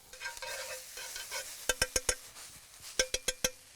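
A garlic scape mix sizzles as it sautés in a hot pan. A soft frying hiss runs underneath, and sharp clacks of a utensil stirring and tapping against the pan come in quick clusters.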